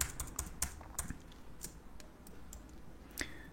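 Quiet clicking of keys on a computer keyboard as a shortcut is typed, a scattered run of light taps close by with faint room hiss between them.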